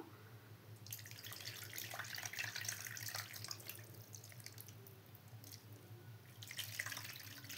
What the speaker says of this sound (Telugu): ఇప్పుడు వచ్చేసి ఈ పులుసు అంతా ఇందులో పోసేసుకుందాం